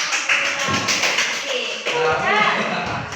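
Classroom applause for student groups one and two after their presentation: a short burst of many hands clapping, fairly close, with voices talking over it.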